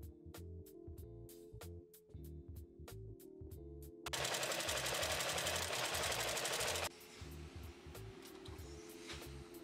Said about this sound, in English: I grabbed some smaller patches and stitched them on to add more of a unique flair to the bag